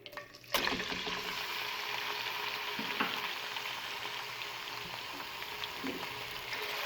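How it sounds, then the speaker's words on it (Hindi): Chicken pieces dropped into hot oil in a pan, a sharp burst of sizzle at the start settling into a steady crackling fry with occasional light knocks, no talk. "अब इसमें ऐड करेंगे चिकन"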